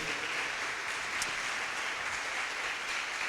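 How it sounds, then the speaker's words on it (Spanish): Congregation applauding the fathers during a Father's Day church service, a steady, even wash of clapping from many hands filling the room without pause. "quiero pedirles que le demos un aplauso a todos los padres"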